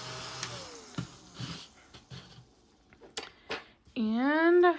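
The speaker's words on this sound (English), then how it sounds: "And we'll get my little vacuum out here." A small vacuum cleaner whirs up near the end, its motor pitch rising sharply and then holding steady as a loud close hum after a stretch of quiet talk and handling noises.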